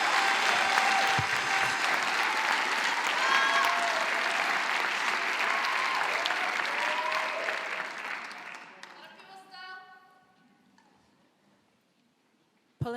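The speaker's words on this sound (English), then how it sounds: "Can I get you guys to give her a round of applause, please?" A conference keynote audience applauds loudly and steadily for several seconds, then the clapping fades away, leaving near quiet with a few faint sounds.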